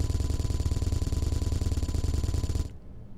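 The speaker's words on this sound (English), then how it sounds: "Well, let's continue firing." Weapons in the video game Space Engineers fire in a rapid, steady automatic stream that stops abruptly near the end, leaving a brief fading echo.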